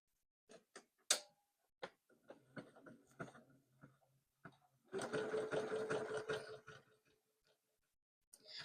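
Sewing machine stitching a dense satin-stitch test on fabric: scattered ticks and clicks, then a steady mechanical whirr for about two seconds, close and fairly quiet.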